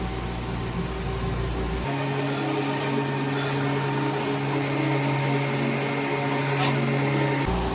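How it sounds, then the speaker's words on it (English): A CNC machine runs a steady, loud mechanical hum with a whining tone while it probes a part and aligns it straight to the machine. The low rumble drops out early and a few faint ticks come through. "So right now it's probing it and aligning the part straight to the machine."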